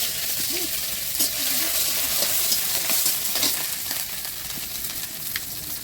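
Dried chili and ginger fry in hot oil for a vegetarian vegetable dish, giving a steady bright sizzle with occasional stirring scrapes, close and fairly loud.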